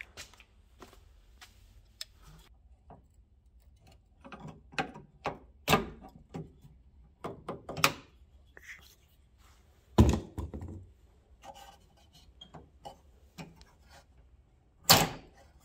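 Door handle being unbolted from a 1972-93 Dodge truck door, a string of sharp mechanical clicks and thunks with several louder knocks, close and irregular, no talking.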